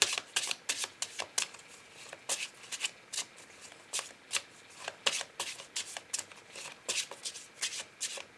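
A deck of oracle cards is shuffled by hand for a reading, giving rapid rhythmic riffling bursts repeated steadily throughout, close and quiet.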